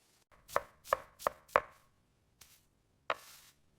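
Onions and garlic being chopped with a knife, with four evenly spaced firm chops followed after a pause by two more, crisp and close with no talking.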